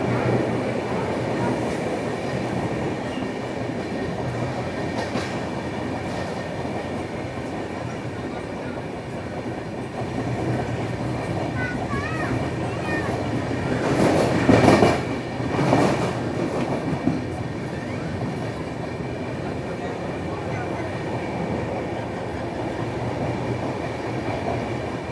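The 12285 Secunderabad-Nizamuddin Duronto Express runs on rails at high speed, a steady loud rumble with rhythmic clatter, brief louder bursts midway as it passes through a station.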